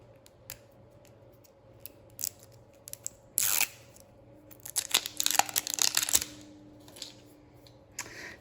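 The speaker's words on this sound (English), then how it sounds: "I've still got it in the plastic. So let's open that." Plastic packaging around a four-pack of washi tape is torn and crinkled open by hand, with a burst of rustling and crunching followed by scattered quieter crinkles and taps, close and alone with no talking.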